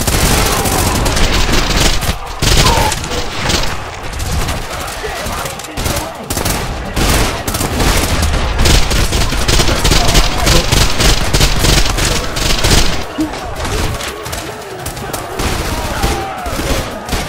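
Sustained gunfire in the video game Trepang 2, with dense, rapid bursts running almost the whole time and a few brief gaps, loud and close, with a voice speaking over parts of it.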